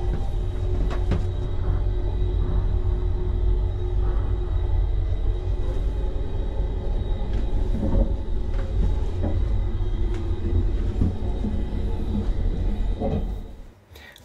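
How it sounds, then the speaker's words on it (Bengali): Interior of a fast Austrian ÖBB train in motion: a dense, steady low rumble with rattling and clatter throughout, fading out at the very end. "এত ফাস্ট ট্রেনটা যাচ্ছে"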